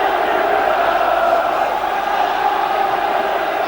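A large stadium crowd roars continuously after a defensive header at a 1994 FA Cup fourth-round football match between Norwich City and Manchester United, a broad, steady, loud wash of noise.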